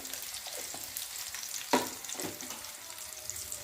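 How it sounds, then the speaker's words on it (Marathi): Green chillies sauté in a pan for a spicy yogurt chilli dish. The frying is a soft, steady sizzle with a few sharp clicks of stirring, one louder clatter partway through, quiet and close with no talk. "मिरच्या थोड्या परतून घेऊया"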